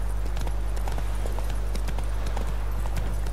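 Horse hooves clip-clop steadily in The Witcher 3 as the mount is ridden toward a lake, a rhythmic trotting patter over a constant low hum.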